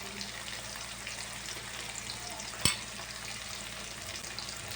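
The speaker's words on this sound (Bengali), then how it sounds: "দেখুন আমি মশলাটাকে কষাচ্ছি" Ground spices with salt, turmeric and chili powder sizzling as they are fried and stirred in a pan for a rohu fish kalia, a steady hiss with one sharp clack of the spoon partway through.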